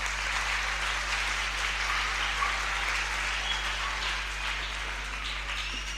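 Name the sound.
audience applause for Jacob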